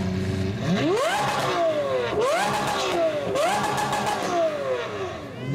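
A classic Japanese car at a J NATION loud-exhaust contest free-revs in three sharp bursts, its engine note rising and falling loudly and close, with a faint voice in the background.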